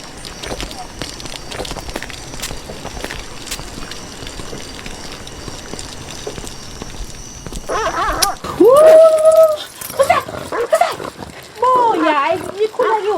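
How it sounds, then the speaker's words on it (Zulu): A dog barks and whines several times in quick bursts near the end, mixed with people talking over a busy outdoor background. "Kunenje nolaka kabi."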